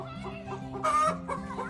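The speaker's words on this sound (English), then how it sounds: "Oh, I see one chicken right now." Chickens in a backyard garden cluck close by in a short series of throaty notes, with one louder squawk near the middle.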